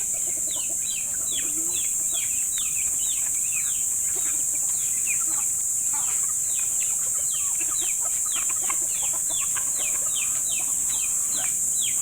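Many chickens cluck and chirp continuously around a farm flock, a dense overlapping chatter of short calls at close range, set against a constant loud high-pitched hiss.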